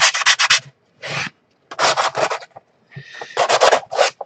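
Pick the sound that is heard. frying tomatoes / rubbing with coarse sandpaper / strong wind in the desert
rubbing with coarse sandpaper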